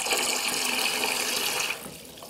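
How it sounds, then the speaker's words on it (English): Warm water pours steadily into a container while making coloured carefresh bedding, a continuous close rushing splash that cuts off abruptly near the end. "I'm going to put some more hot water in."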